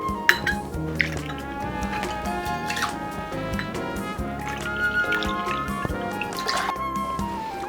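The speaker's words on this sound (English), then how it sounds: "Pour a fine 16 milliliters portion of mixed rum." Mixed rum is poured into a cocktail shaker, a thin liquid trickle and drip mixed with clinks and taps of metal and glass, close and fairly quiet, with no voices.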